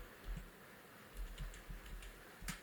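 A URL being typed on a computer keyboard: a few soft, scattered key clicks, quiet and close, with no other sound.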